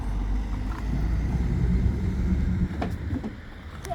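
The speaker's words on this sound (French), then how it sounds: "Là, c'est le bruit de voiture surtout." Car traffic noise rumbles steadily, a dense low roar of passing vehicles with some wind buffeting, continuous and fairly loud throughout with a few brief clatters near the end.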